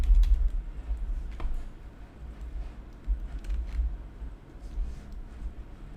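Soft, irregular keystrokes on a computer keyboard while Python code for a simple apple clicker game is typed, scattered quiet clicks over a low steady room hum, with no talk.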